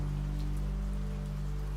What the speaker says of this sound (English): the middle voice of the rain, rising and falling